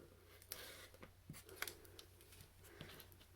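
Scissors or a rotary cutter trims two sides of a paper-pieced quilt block, making a few faint, sharp snips and light paper rustles close by in a quiet room.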